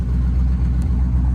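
A 1964 Corvette Convertible engine runs with a steady, dense low rumble, revving slightly as it holds close and loud with no pauses or voices.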